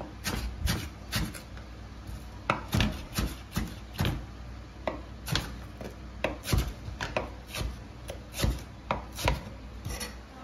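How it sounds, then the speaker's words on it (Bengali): Green chillies are chopped with a knife on a board, a quick, uneven series of close, crisp thuds and cuts that keeps going in bursts with short pauses. "আমার তখন কাঁচামরিচ 10টা কাঁচামরিচ কাটলাম"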